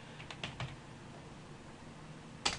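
Text is typed on a computer keyboard, heard as a few quiet, scattered key clicks close by, with a sharper tap near the end over faint room noise.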